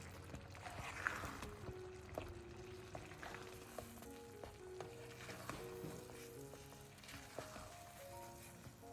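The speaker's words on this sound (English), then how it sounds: "stir it over medium-low heat until the water dries out" Black sticky rice stirred in a boiling palm sugar mixture over medium-low heat, a faint continuous sizzle and bubbling with soft scraping strokes of the spoon at an irregular rhythm.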